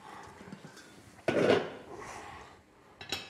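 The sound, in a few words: frying pan being picked up and set down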